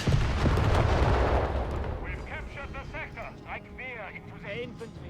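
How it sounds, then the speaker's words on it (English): A building collapses under American bazooka fire in Company of Heroes 3, a loud, crumbling, rumbling crash over the first two seconds that fades as a commentator starts talking. "it's collapsing under American bazooka fire here"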